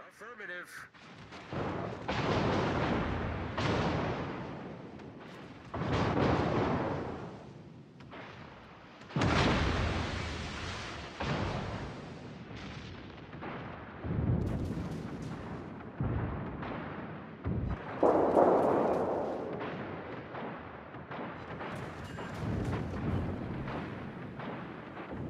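Warship main guns boom in the naval video game World of Warships, a series of heavy blasts every few seconds, each followed by a rumbling decay, with voices between shots.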